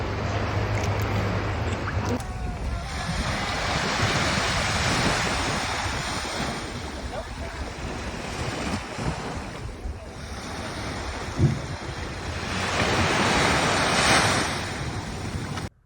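Ocean waves wash and break steadily on a beach in Turks and Caicos, with rolling surges and gusts of wind buffeting the microphone throughout.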